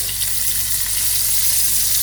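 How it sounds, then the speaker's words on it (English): Steady, loud sizzling of fish flash frying in a hot pan, a continuous crackling hiss with no voices. "We are only flash frying the fish"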